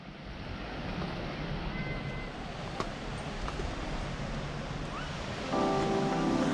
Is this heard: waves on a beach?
yes